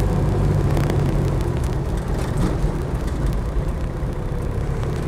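A Land Rover Defender driving on a road, heard as a loud, steady low engine rumble and road roar from close up, continuous and unbroken, with no talking.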